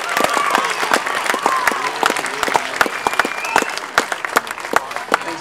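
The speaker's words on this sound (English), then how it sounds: "Final round of applause for the Year 7 Tournament 11" A school prize-giving audience applauds the Year 7 district tournament team, a dense, steady clatter of many hands clapping with scattered sharper claps throughout.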